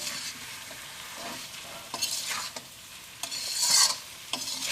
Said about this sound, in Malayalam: നമുക്ക് നന്നായിട്ടൊന്ന് മിക്സ് ചെയ്യാം.